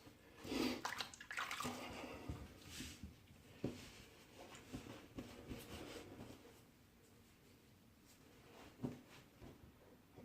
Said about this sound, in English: I'm gonna rinse off my head and see if I need much more cleanup